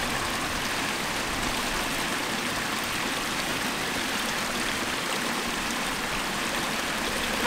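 Constant rushing water from a small waterfall at a lagoon spillway, a dense steady wash of noise, unbroken for several seconds with no voices.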